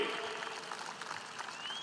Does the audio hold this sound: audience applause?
yes